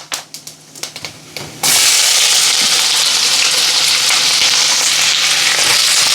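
Onions drop into hot sesame oil already holding bay leaf, cardamom, cloves and star anise for a mutton kola urundai kulambu. A few light taps come first, then a sudden loud, sustained sizzle fills the rest, close and without speech.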